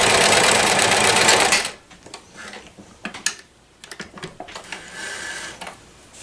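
A 1994 New Home Special Edition Model 108 sewing machine runs with a loud, steady whirring stitch for a second and a half, then stops, followed by quieter mechanical clicks and ticks as it is handled.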